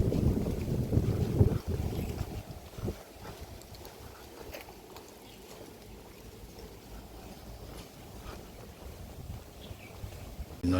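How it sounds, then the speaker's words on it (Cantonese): A boat on a reservoir near Shek Lei Pui and Kowloon, Hong Kong, heard faintly and at a distance under strong wind noise buffeting the microphone, louder at first and then settling into a low steady rush. "咁奇怪嘅，呢度會有船嘅。"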